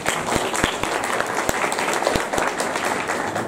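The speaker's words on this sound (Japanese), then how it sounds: "では拍手でまた皆さんお迎えください。" Audience applause at a symposium welcoming the next speaker, a steady wash of many hands clapping at moderate loudness throughout, with a few sharper individual claps standing out.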